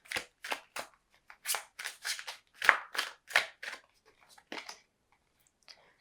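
Tarot cards are shuffled by hand at close range, a series of short crisp riffles and slaps in irregular bursts of about a dozen, fading to a few soft taps near the end.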